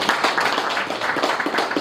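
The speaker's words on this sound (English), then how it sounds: "You can clap for Dan Martin." Audience applause at the official launch of a KASNEB examination centre, a dense, steady wash of many hands clapping together throughout, fairly close and even in loudness with no talk over it.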